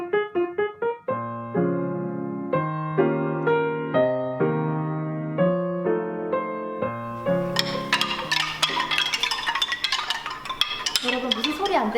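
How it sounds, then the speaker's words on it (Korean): Hand-shaped, painted bamboo wind chimes made with village residents ring out in bright, overlapping tones, steady at first and then growing busier and denser with rattling clatter toward the end. "주민들과 함께 이 대나무를 이용해서 풍경을 만들었다고 합니다"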